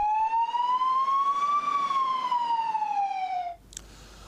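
A new ambulance's electronic siren wails loud and close in one long tone that rises and then falls before cutting off, followed by a brief clunk.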